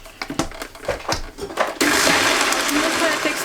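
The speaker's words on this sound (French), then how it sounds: "on va mixer jusqu'à ce qu'on ait une texture un peu comme une glace" A blender whirs loudly and steadily as it mixes frozen red fruits, yogurt and sugar into an ice-cream-like texture, starting abruptly after a moment of clattering and brief talk.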